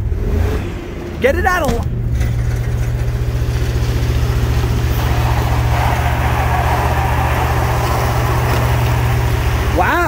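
A Dodge Durango AWD engine revs hard near redline with a loud, steady drone and rising, falling pitch sweeps, then is dropped into drive; a person talks briefly over it.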